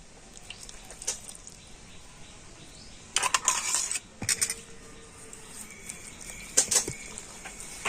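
Water pours into a mixer jar to rinse out leftover mango paste, with clinks and knocks of the jar and metal utensils and short splashing bursts, at close range.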